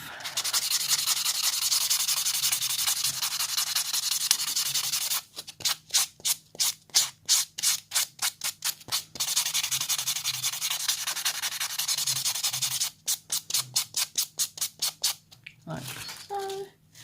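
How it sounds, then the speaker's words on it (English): A nail buffer scrubs across a dip powder nail, first as a long continuous rasp, then as quick rhythmic back-and-forth strokes, close and loud, with a brief voice at the end. "So now we will just buff."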